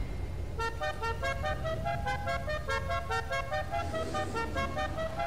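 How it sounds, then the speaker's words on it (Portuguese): Car horns honk repeatedly in the GTA V racing video game before a drag race, layered tones blaring loud and continuous over a steady engine-like rumble. "Dessa vez só eu fui de buzininha."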